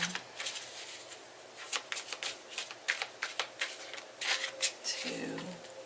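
Tarot cards being shuffled by hand in a series of quick papery riffles and slaps, close and fairly soft, with a low hum beneath and a brief murmur near the end.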